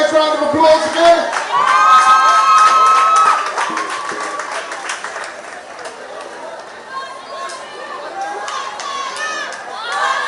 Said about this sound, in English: Give them another nice round of applause again.